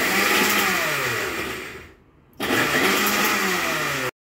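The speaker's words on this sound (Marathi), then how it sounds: "त्यातले पाणी मी इथे काढून घेतलं आणि आता मिक्सरला फिरवून घेऊयात।" A kitchen mixer grinder grinds soaked, drained rice in loud, steady bursts, running about two seconds, cutting out briefly, then whirring again until it stops.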